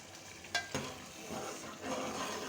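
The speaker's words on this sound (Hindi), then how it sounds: "ये देखें किस तरह भून रहे हैं," Chicken stir-fried in a pan for achar gosht, giving a steady sizzle and frying hiss with two sharp clinks of a utensil early on, nearby and without talk.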